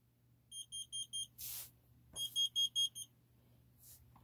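A carbon monoxide alarm sounds two bursts of rapid high-pitched beeps, four then five pulses, each followed by a hiss-like chirp, loud and close in an otherwise quiet room, with no talking.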